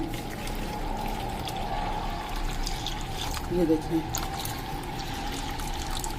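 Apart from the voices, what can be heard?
water pouring into a bowl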